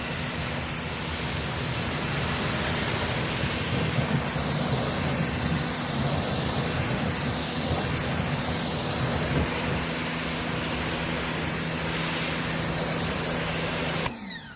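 A Sun Joe SPX3000 electric pressure washer sprays a car, giving a loud, continuous hissing jet with a steady motor hum underneath that runs unbroken before cutting off abruptly at the end.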